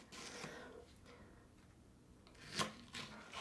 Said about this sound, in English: So now we've got these little sweet peppers here. And we're going to do the same thing. I'm just going to cut them up.